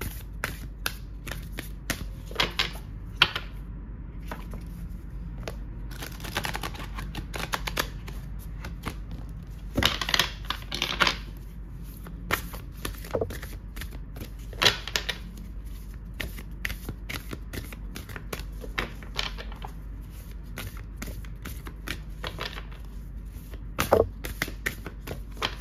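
Playing cards shuffled for a card reading, a long run of crisp riffling bursts and soft flicks repeating throughout, close and fairly quiet, with no talking.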